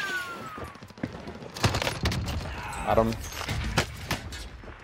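Gunfire in Call of Duty Warzone, a battle royale shooter, with several sharp shots at irregular intervals under ongoing talk.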